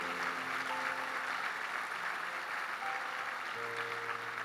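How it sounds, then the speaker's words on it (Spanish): A church congregation applauds during a Sunday service, a steady, fairly faint wash of clapping with some sustained tones underneath. "denle ese aplauso al Señor"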